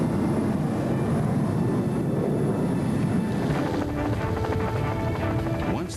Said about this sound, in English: crew members are loaded onto a jet that will take them to Jacksonville, Florida